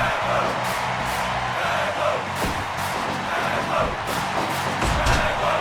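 A house wrestling show's crowd roars and cheers steadily through a match, a dense wash of shouts and whoops with occasional thuds, while a commentator talks underneath.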